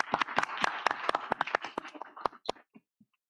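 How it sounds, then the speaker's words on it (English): Applause at a school board meeting: a small group claps in a brief, sparse patter of sharp hand claps that thins to a few last claps and then silence. "let's give them a round of applause"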